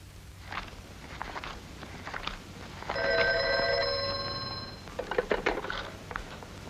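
A telephone bell rings in one sustained burst of about two seconds, set between quiet footsteps and small handling noises in a still room, with no talk.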